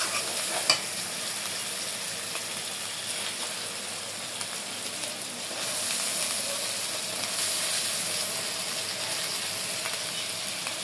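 Bele river fish frying in a wok of mustard and poppy seed paste, a steady close hiss and crackle of hot oil with light stirring scrapes, continuous throughout and rising slightly louder midway.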